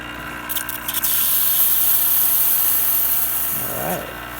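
Steam wand on a Quick Mill Anita espresso machine blasts a loud, continuous broadband hiss for several seconds, with a brief gurgling shift near the end.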